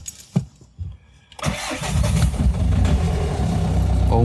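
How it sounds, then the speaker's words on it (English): A VW Touran project car under restoration cranks briefly, catches and starts up, its engine settling into a loud, rough, steady idle close by. "let's see if this thing starts up"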